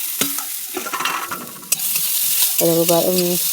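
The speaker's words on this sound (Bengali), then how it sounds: "বাঁধাকপিটা দিয়ে দিলাম দিয়ে একটু নাড়াচাড়া করে" Shredded cabbage hisses and sizzles as it is stirred in a hot wok, with scraping strokes of a utensil and a rising tonal scrape near the end, close and loud with no talking.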